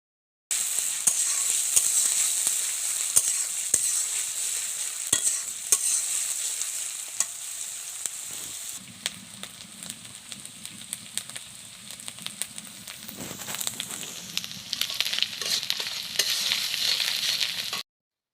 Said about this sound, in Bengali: প্রথমেই দিয়ে দিনু পেঁয়াজ বাটা। যতক্ষণ কাঁচা কাঁচা গন্ধ না যায় ততক্ষণ ভালো করে ভেজে